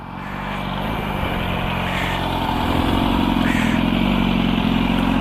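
A 2004 Yamaha R1 motorcycle engine revs hard during a clutch burnout, a loud, close, continuous roar that builds over the first second and then holds at a steady high pitch.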